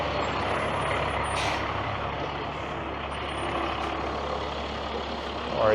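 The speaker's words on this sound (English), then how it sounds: "Are you turning truck or are you going straight?" A truck turning on a downtown Toronto city street, its engine rumbling steadily with a short hiss of air brakes and faint reversing beeps, heard close amid continuous street traffic.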